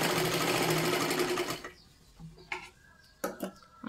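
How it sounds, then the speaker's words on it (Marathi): A sewing machine stitches a princess-cut blouse, running loud and steady for about a second and a half, then stops and gives way to scattered light clicks and handling of fabric and parts. "व्यवस्थित आपल्याला शिलाई करत करत वरच्या बाजूला यायचं आहे"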